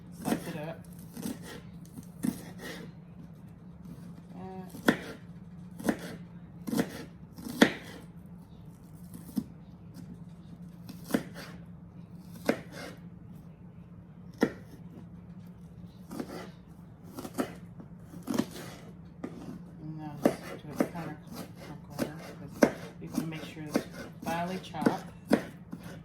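A knife chops diced raw onion on a cutting board for potato salad, giving dozens of sharp, close taps in irregular clusters over a low steady hum.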